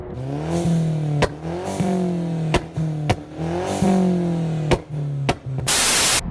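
A stage 2 tuned Mercedes C250 without a muffler revs repeatedly in loud rising pulses, each cut by a sharp exhaust crack, ending in a burst of hiss.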